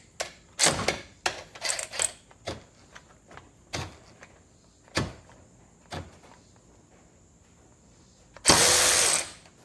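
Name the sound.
DeWalt DCF513 cordless ratchet loosening a bolt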